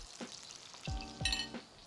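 Salmon frying in a nonstick teflon pan, with a couple of soft sizzling bursts and light scraping clicks as the fish is turned, fairly quiet with no talk.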